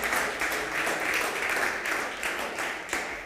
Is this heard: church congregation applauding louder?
yes